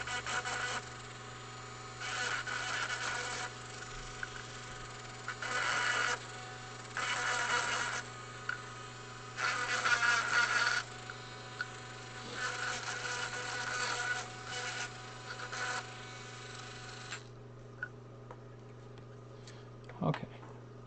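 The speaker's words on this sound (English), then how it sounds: "Just going to take off any burrs." Bursts of a small rotary deburring tool working the edges of a metal piece in a workshop, several buzzing passes over a steady low hum, close and moderately loud, ending with a quiet pause and one sharp knock.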